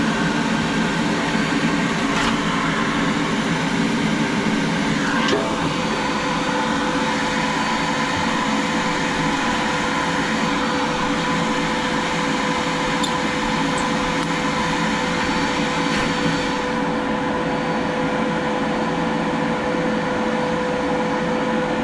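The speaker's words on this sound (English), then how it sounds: "so I'll just put my vacuum on." A vacuum cleaner runs steadily to clean out the flue of a Fireline wood stove, a constant loud whirring hum with a few faint knocks from the hose being worked past a bend.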